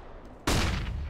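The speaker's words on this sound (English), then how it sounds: "Throwing a flashbang." A sudden loud burst from a flashbang grenade in Counter-Strike: Global Offensive, one sharp bang that rings out and slowly decays, preceded by a quiet lull.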